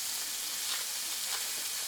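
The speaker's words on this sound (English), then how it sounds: "hear that sizzle" A burger patty fries in a hot pan with a steady, close hiss and crackle, continuous and unbroken, with no voices over it.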